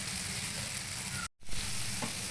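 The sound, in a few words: onion-ginger-garlic masala with chili powder frying on low flame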